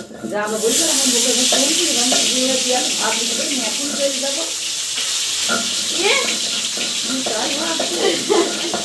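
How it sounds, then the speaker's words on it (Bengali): Chicken pieces frying in a home kitchen pan, a steady broadband sizzle running throughout with stirring scrapes, while voices talk over it nearly the whole time. "চিকেনগুলো এখন আমি ভেজে নেবো।"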